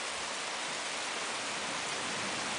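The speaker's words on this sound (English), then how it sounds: "It's starting to rain." Steady rain falling during a thunderstorm in Germany, a dense, even hiss of drops on surfaces without a break, with no thunder or voices heard.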